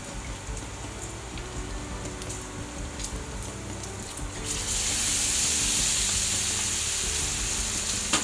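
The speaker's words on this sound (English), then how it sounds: "I'm going to add some tomato, which I'm just going to pick out of my can here and break them up with my hands, just like this." Canned tomatoes crushed by hand into a hot pan for Amatriciana sauce, giving a steady loud sizzle that grows brighter and hissier partway through as the juice hits the pan.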